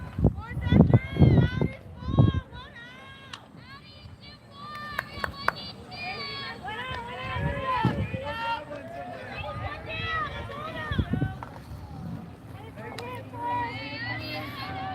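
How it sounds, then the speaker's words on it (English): Excited shouting and chatter from the dugouts at a high school girls' softball game, lively and overlapping, with loud bursts early on and a steady babble of voices throughout. "Hear both different shouts coming from the different dugouts."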